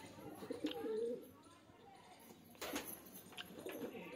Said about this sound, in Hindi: गाइस एक कबूतर नीचे आ गया छपरा